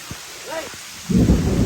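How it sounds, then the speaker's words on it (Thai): A thunderstorm with lightning and rain: a sudden low, heavy rumble of thunder rolls in after a few faint knocks, loud and close over a bed of rain. "เฮ้ยฟ้าผ่าว่ะใจเย็นนะฟ้าร้องว่ะ"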